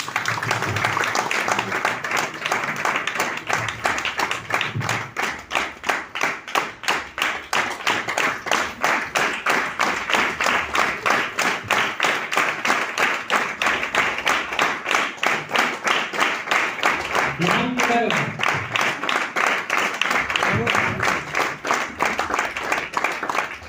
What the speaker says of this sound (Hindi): एक बार शानदार जोरदार तालियों से दोस्तों, शानदार तालियां